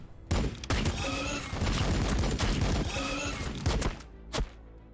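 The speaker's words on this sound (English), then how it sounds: "Pistol reaction shot, it was called." Pistol reaction shots go off in the video game Warhammer 40k Battlesector, a dense volley of sharp cracks and thumps packed close together over several seconds, then two brief separate bangs near the end.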